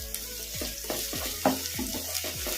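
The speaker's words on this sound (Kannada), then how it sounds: "ಈಗ ಇವೆಲ್ಲ ಮೆತ್ತಗೆ ಫ್ರೈ ಆಗೋವರೆಗೂ ಫ್ರೈ ಮಾಡ್ಕೊಂಡ್ಬಿಡೋಣ." Chopped tomatoes and onions fry in a pan with a continuous close sizzle. A spatula scrapes and stirs about every half second in a steady rhythm, with one louder clink partway through. There is no talking.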